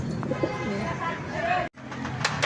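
Soft pigeon coos murmur in the background among other bird sounds, with a brief dropout partway through.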